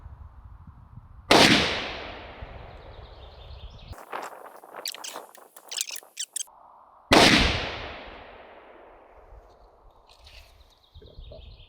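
Rifle shots fired while testing muzzle brakes: two sharp, loud cracks several seconds apart, each with a long fading echo, with faint clicking handling noises between them and quiet outdoor ambience.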